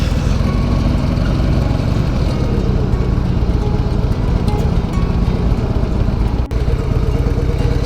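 A motorcycle engine idles at a traffic light, a loud, close, continuous low rumble with a steady rhythmic clatter that holds without any revving.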